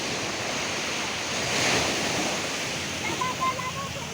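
Sea waves surging up high onto the shore, a continuous loud roaring wash with a swell in the middle, close by and buffeted by wind noise, no talking.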